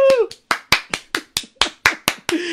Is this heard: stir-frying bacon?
no